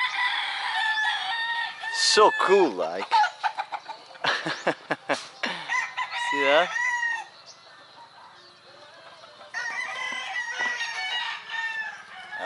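Several roosters crow loudly and repeatedly up close, with clucking chickens between calls in a Philippine village, while a person talks briefly early on.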